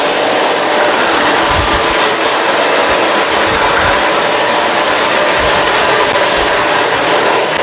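A Kenmore Crossover Ultra vacuum cleaner running at full suction, with a loud, steady, close roar and a thin constant high whine above it. No one speaks.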